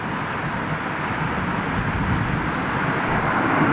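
A Boeing 787 Dreamliner at Heathrow lined up for departure, a loud, steady, low roar of jet engines that swells slightly toward the end, with no voices over it.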